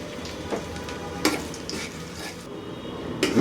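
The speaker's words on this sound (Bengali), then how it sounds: "আমি এখানে 3 টেবিল চামচ সরিষার তেল গরম করে ওর মধ্যে প্রায় 2-3 কোয়া রসুন দিয়ে একটু ভেজে নিব।" Garlic cloves fry in hot mustard oil with a soft, crackling sizzle, broken by a few brief clinks and stirring scrapes in the pan.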